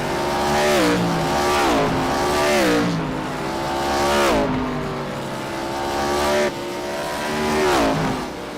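Race cars in an IROC Challenge Series event roar around The Bull Ring track, engines loud and close, revving up and down in repeated waves as the cars power through corners and drift past.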